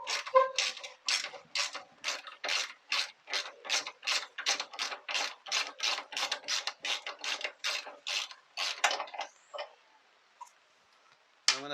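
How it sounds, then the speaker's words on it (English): Ratchet wrench undoing the front engine mounting bolt on a Yamaha TZR 125 frame, a close, steady run of about two dozen quick clicks, then a pause and one last click. "What I'm going to do now is I'm going to take this front bolt out."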